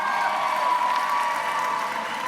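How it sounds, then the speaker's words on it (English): Applause and cheering from an audience at a taekwondo tournament ceremony honoring a grandmaster, a steady wash of clapping and crowd noise with a faint whoop, sustained at even loudness throughout. "let's give a big round of applause for Grandmaster Lee"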